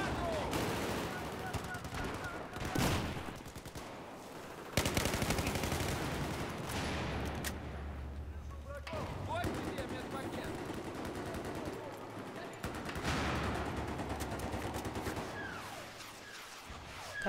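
Rapid gunfire from Battlefield 4 rattles through bursts of automatic shots and sharp single cracks, loud and close, with spoken voices mixed in and brief lulls between volleys.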